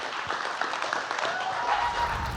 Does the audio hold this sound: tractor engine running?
no